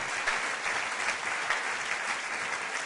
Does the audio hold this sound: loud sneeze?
no